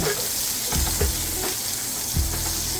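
Continuous crackling sizzle of ramen noodles browning in a hot pan, with a few soft scraping stirs over the steady hiss.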